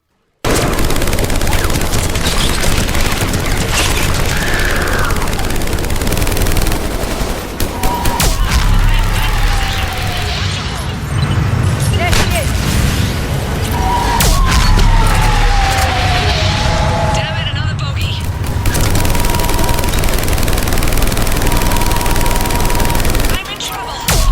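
Heavy gunfire in the video game Mass Effect 3, with loud sustained bursts of automatic weapons, explosions and combat effects filling the scene, plus occasional in-game voices beneath the din.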